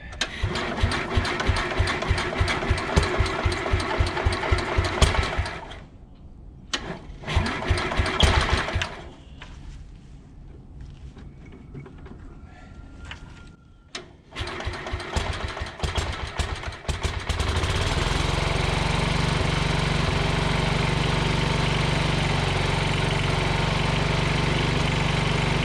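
An antique Sears Suburban 12 garden tractor engine cranks in rapid chugging bursts, stumbles and sputters through several tries, then catches and settles into a loud, steady idle that runs through to the end.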